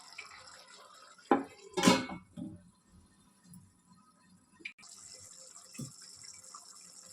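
Water is poured from a vessel into a pan of brinjal curry, making a short splash and a louder gushing pour, followed by quiet bubbling and a few small knocks.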